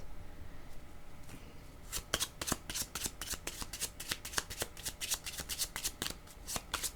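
Tarot cards are shuffled close up in a fast run of crisp riffling flicks, starting after a quiet moment and continuing steadily, with no voices.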